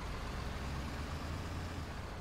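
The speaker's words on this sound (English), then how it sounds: "So much diesel engine sound." A diesel truck engine in a video game rumbles steadily at a constant idle, a dense, unbroken drone with no speech.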